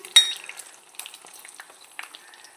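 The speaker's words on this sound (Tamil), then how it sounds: "நல்லா இந்த தயிர் மிளகாயை நல்ல பொன்னிறமாக வறுத்தெடுக்கணும்" Curd chillies frying in hot oil until golden: sparse, crisp crackles and pops, with one sharp burst near the start, over a light sizzle, close and fairly quiet.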